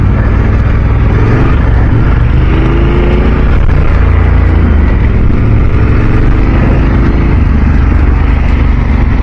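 Yamaha T7 and BMW GS adventure motorcycles ride past on a trail at an adventure bike festival, a loud, steady engine drone with a broad rumble and wind noise throughout, the roar swelling slightly mid-pass.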